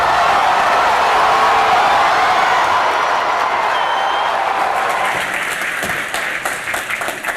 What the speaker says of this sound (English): You can see I built in the applause track just in case y'all didn't clap.